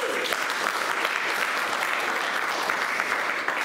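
An audience at a Docker meetup on Kubernetes claps in a brief, dense burst of applause that holds steady throughout, with a faint voice briefly audible at the start.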